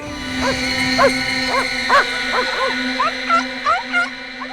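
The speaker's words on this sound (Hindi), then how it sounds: "यहाँ तो पमेरियंस, डेल्मेशियंस और लेब्राडोर जैसे प्यारे प्यारे कुत्ते ही हैं सर" Dogs at a dog training center, among them Pomeranians, Dalmatians and Labradors, bark and yip in a series of about a dozen short, close barks over a steady background hum.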